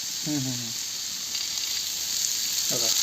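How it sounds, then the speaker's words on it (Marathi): Onion fries in oil in a pan over a wood-fired village stove, giving a continuous bright sizzling hiss, with a voice briefly heard at the start and near the end. "थोडा कांदा गरम झाला की याच्यामध्ये तेल पण टाकणार आहे थोडं तेल टाकू"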